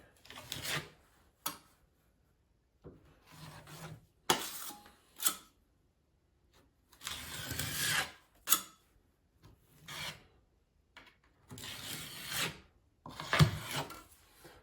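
A trowel rasps and scrapes across a wall, smoothing a thin layer of setting-type joint compound in repeated bursts of gritty rubbing separated by short pauses.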